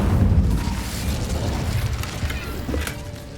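An Incendio fire spell bursts in Hogwarts Legacy: a deep, rumbling whoosh of flame that holds steady and loud, then tails off near the end.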